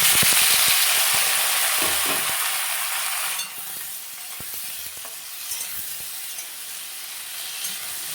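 Pumpkin and potato pieces fry in hot oil with a loud, dense sizzle that drops sharply partway through as they are stirred, then keeps hissing steadily with occasional spatters and scrapes.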